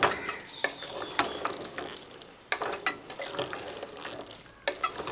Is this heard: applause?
no